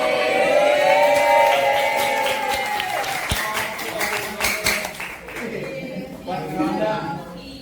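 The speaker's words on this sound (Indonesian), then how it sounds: "Tepuk tangan dong buat teman kita" Students in a classroom clap for a classmate who won, scattered, uneven applause mixed with talking and chatter.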